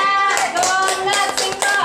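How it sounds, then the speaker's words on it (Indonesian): A group of people clapping for a team of participants in a school class, a short burst of quick overlapping claps heard close, mixed with voices. "tepuk tangan buat kelompoknya"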